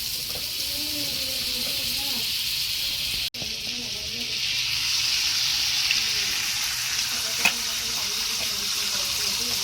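An egg frying half-fried in a pan for a sandwich, giving a steady close sizzle with a sharp click partway through and a faint voice in the background.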